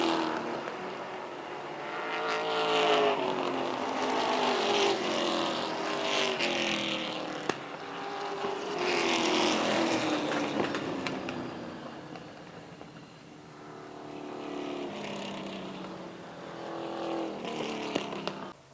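Stock race cars at the Boss Hogg 150 roaring around the track under green flag, engines rising and falling in pitch as packs sweep past in waves, loud and fairly close.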